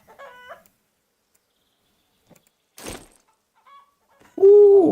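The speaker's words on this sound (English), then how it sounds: "Man, that's a noisy crow, dude." A noisy crow in the farming video game Farmer's Life calls in a few short, separated bursts with silent gaps between them, ending in a louder, harsh, sustained squawk.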